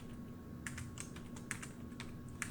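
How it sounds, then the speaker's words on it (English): Fingers tap out text on a computer keyboard while working in Google Docs, a quick, uneven run of light clicks heard close and alone over a low background hum. "I'm going to type something up here."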